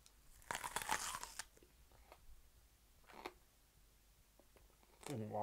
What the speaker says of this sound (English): Some people don't bother to cook onions at all, choosing to eat them raw.